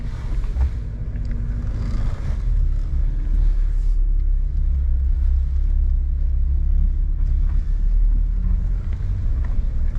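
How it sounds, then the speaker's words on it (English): Inside a Mitsubishi Pajero Junior on the move, a steady low road and engine rumble with light wind noise carries on evenly, with no one speaking. "do you guys even hear the car right now? It's super quiet."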